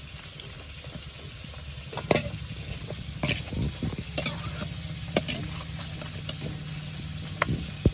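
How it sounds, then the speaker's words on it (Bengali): Brinjal pieces fry in fish oil, with a continuous soft sizzle punctuated by sharper crackles and occasional utensil scrapes, fairly close and moderately quiet. "এই কয়েকটা বেগুন এগুলো হচ্ছে যে ভাজা করবো"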